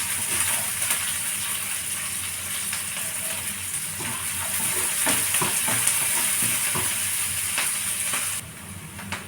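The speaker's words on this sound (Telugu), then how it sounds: "దీనికి అల్లం తరుగు ఇందులో మిర్చి తరుగు రెండు అలాగే ఆనియన్ కూడా వేసుకొని దూరగా ఫ్రై చేసుకున్నాం." Ginger, green chillies and onion fry in a pan for upma, a loud steady sizzle under repeated scraping strokes of a spatula, with irregular clicks and knocks, easing slightly near the end.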